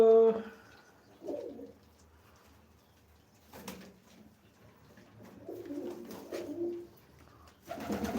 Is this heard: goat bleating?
no